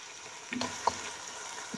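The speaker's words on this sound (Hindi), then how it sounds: "जैसे हमने चिकन को अच्छे से फ्राई कर लिया है" Chicken fries in a pan with a soft, steady sizzle, broken by a couple of light clicks and knocks.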